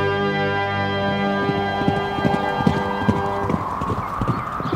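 Hooves of several horses clip-clop in a steady, close galloping rhythm over a sustained droning tone within an audio drama, the beats loud and clear with no talk over them.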